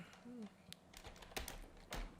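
Typing on a computer keyboard while a new track is named, with scattered key clicks and small bursts of keystrokes spread across the moment. The clicks are close and fairly quiet.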